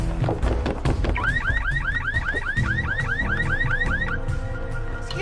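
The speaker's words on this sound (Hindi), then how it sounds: "वो गाड़ी का अलार्म बज रहा है" A car alarm on a green Volkswagen sounds loud and close in a repeating pattern of rising electronic whoops, preceded by sharp clattering impacts.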